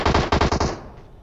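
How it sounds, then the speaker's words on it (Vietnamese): A rapid burst of gunfire in PUBG Mobile, several loud close shots in quick succession that then cut off, leaving a short fading tail. "Có tiếng súng này."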